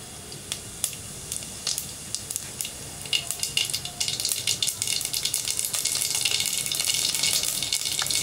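Mustard seeds and cumin sizzle in hot oil for a Tamil turkey berry sambar, a hissing crackle that starts sparse and grows into dense, steady popping and spattering close by.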